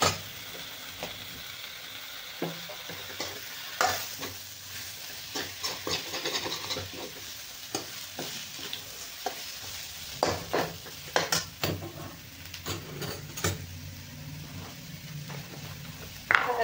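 Bitter gourd being sautéed and stirred with roasted masala in a pan, a quiet continuous sizzle under irregular scraping strokes of a spoon, close by and fairly soft, with no talking.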